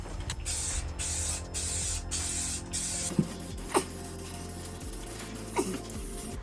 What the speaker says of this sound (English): I'm gonna use some mold blocking primer on it